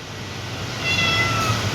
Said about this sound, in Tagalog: Ito yung mga alaga nating pusa.